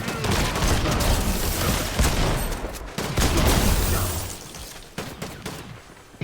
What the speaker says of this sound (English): these shotguns are loud